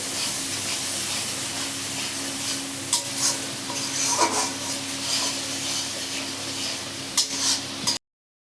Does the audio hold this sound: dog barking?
no